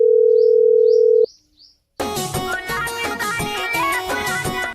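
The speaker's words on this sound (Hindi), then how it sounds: "मिश्रा प्रधान के पास कॉल लगाओ।" A steady electronic phone dial tone hums for about a second, cuts off with a click, then loud music with percussion takes over.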